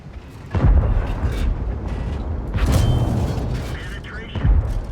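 A tank's ammunition rack blows up in World of Tanks, booming rumbles and heavy thuds layered with game noise, loud and close, while someone talks over it.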